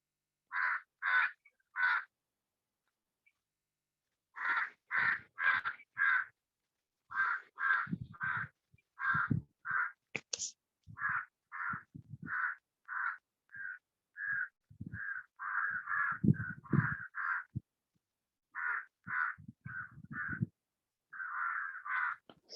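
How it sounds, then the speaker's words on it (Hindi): A crow caws over and over in bursts of two to four harsh calls, loud and close, with short pauses between the runs and no talking. "सर कौवा बहुत बोल रहा है आपके साइड"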